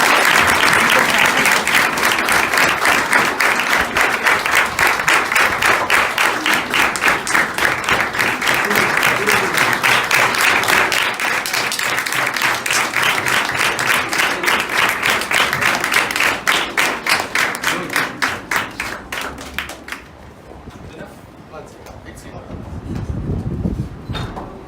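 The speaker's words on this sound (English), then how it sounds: "Give her a big clap." A school audience gives loud, sustained applause, dense rapid clapping close and strong for about twenty seconds before it abruptly thins out and fades, with a low murmur of voices afterward.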